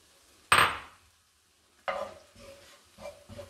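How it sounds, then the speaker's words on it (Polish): Sweet paprika hits hot olive oil in a pan with a sharp sizzling burst, followed by quieter sizzles and stirring scrapes as it fries, with pauses of near silence in between. "dodajemy słodką paprykę. Podsmażamy ją, żeby wydobyła smak."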